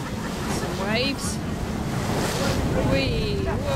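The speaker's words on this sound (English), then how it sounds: "Some waves." Ocean waves wash steadily around a tall ship cruising near a seawall opening to the ocean, mixed with heavy wind buffeting the microphone, while people's voices rise over the rushing water.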